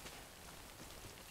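Rain in the Death Stranding video game, a soft, even patter of drops falling on surfaces, faint and unbroken.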